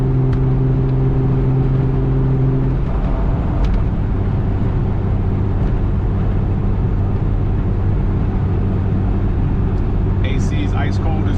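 A Jeep Wrangler TJ Rubicon on a new build drives with a steady, loud engine and road rumble heard from inside the cabin. A lower engine tone shifts partway through, and a voice talks over it.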